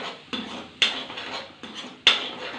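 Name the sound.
stirring two broken eggs in a pan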